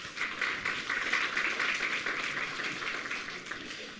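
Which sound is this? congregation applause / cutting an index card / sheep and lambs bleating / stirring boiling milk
congregation applause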